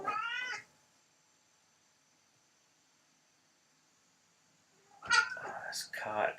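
A pet cat meows indoors, giving a short, clear cry at the start, then after a long quiet stretch a louder run of varied, chattering meows close to the microphone.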